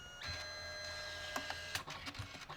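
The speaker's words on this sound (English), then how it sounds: "It will print each color one by one." A Canon Selphy CP1500 photo printer prints up close with a steady mechanical whirr and high whine, then a run of clicks and clunks as the paper shifts between color passes.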